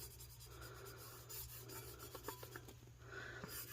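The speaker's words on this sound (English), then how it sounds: "I'm going to use the felt side of my squeegee to try and smooth it on as best as I can" Felt edge of a squeegee rubs and rasps steadily across tissue paper being smoothed onto a tumbler, a soft close-up scraping with short repeated strokes, fairly quiet and with no voices.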